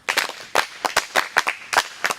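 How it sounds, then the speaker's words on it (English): A small classroom group gives a short round of applause for a student, with sparse, uneven claps arriving in clusters over about two seconds, fairly close and fading quickly. "Round of applause for her."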